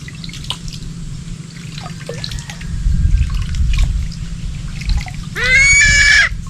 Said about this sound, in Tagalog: Linisan natin yung paa mo ng tubig.